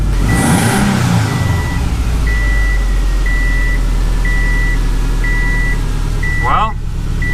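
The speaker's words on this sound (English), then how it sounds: "I'm gonna try to rev it a little bit and see what the heck happens then." Naturally aspirated Subaru with an upgraded fuel injector and turbocharger, engine running steadily close by with a rising rev near the end, while a repeating electronic beep chimes at regular intervals throughout.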